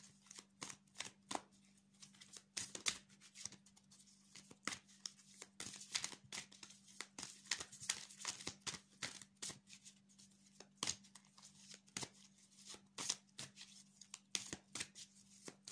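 Tarot cards being shuffled by hand, a steady run of quick papery riffles and flicks, close and fairly quiet over a low constant hum, with no talking.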